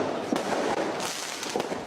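Firecrackers pop in scattered sharp bursts during a riot in Jakarta, several cracks rising over a constant rough crowd roar.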